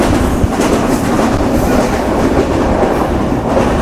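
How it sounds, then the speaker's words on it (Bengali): The Sagardari intercity express, hauled by a 63-series broad gauge locomotive, runs on broad gauge rails with a loud, steady rumble and continuous clickety-clack from the wheels, heard close throughout. "ধুলার ঝড় তুলে দিয়েছে আমাদের আন্তনগর সাগরদাড়ি এক্সপ্রেস"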